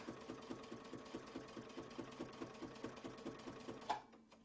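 A sewing machine stitches in the ditch along a quilt block seam, a quiet steady rapid whir-and-knock rhythm that stops abruptly near the end.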